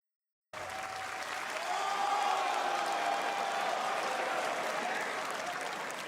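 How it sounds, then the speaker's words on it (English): A live audience at a summer game showcase event breaks into loud applause that starts abruptly and continues as a dense, steady wash of clapping and crowd noise throughout. "That got a loud round of applause."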